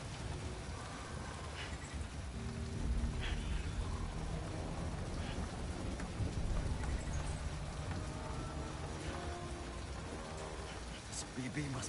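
Heavy, persistent rain in Death Stranding pours over open terrain as a thick wash of drops, with scattered patters and dull low thuds mixed in, some indistinct voice murmuring underneath.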